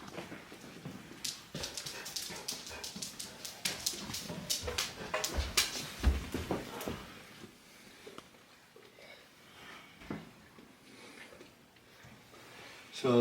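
A dog whimpers and yips in a rapid, uneven series of short, fairly quiet cries indoors, tapering off into sparse faint sounds toward the end.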